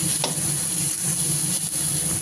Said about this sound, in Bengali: মাথাটা আর কি ভালো করে ভাজা হচ্ছে।